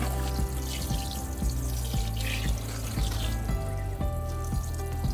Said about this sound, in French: Il ne reste plus qu'à venir arroser.